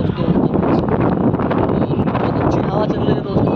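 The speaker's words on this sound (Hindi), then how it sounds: "बहुत अच्छी हवा चल रही है" Outdoor wind in Hyderabad blows steadily and loudly across the microphone, a constant broadband rush with buffeting gusts throughout.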